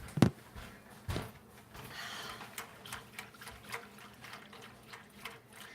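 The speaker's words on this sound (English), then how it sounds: "I'm stirring right now" Whisk stirring hot cocoa in a pot, opening with two sharp clinks against the side and then a steady, soft rhythmic swishing and scraping, close and fairly quiet with no voices.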